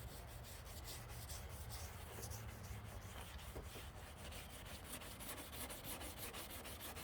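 Steady gritty rubbing of baking soda on slightly delaminating headlight plastic, a soft continuous scrubbing against a hard surface with a faint rhythmic back-and-forth, quiet and close, no talking.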